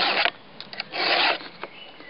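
A file rasps across a chainsaw chisel in several short close strokes, with one longer stroke in the middle and brief pauses between them.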